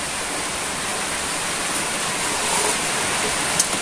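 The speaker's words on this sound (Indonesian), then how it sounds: "Karena cuaca kurang bersahabat, di luar hujan, suaranya mungkin agak berisik di kamera." Rain falls outdoors in a continuous broadband hiss, steady and fairly loud, with a faint tick or two but no voices.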